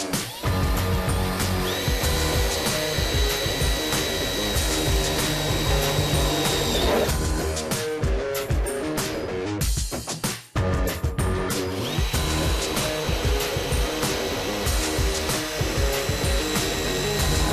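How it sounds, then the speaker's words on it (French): A power drill bores a hole in metal during the restoration of a classic Mini, running loud and continuous with a sustained whine that breaks off briefly midway and then resumes. "Cela vous permet de percer un trou exactement à l'endroit marqué."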